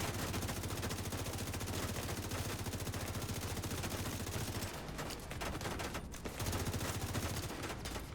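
An automated turret in The Division 2 fires continuous rapid bursts at close range, a dense, loud rattle that barely pauses across the whole stretch.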